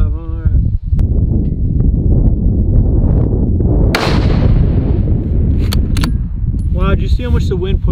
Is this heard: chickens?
no